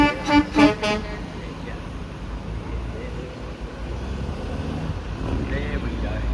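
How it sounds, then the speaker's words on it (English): Truck horns toot in a few short, loud blasts at the start, heard at a truck drag racing event at Sydney Dragway, followed by wind noise, engine rumble and crowd ambience. "Let's get some truck horns going."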